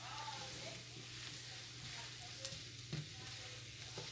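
Potatoes with onion frying in a skillet, a faint, steady sizzle with soft stirring scrapes and a few light clicks, set against a low background hum and quiet voices.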